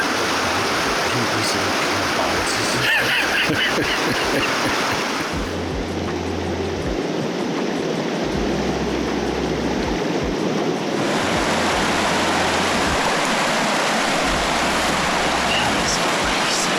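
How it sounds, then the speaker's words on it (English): A river in Alaska rushes loudly and continuously during a crossing on foot, a steady broad roar with wind buffeting the microphone. "You gotta cross this river."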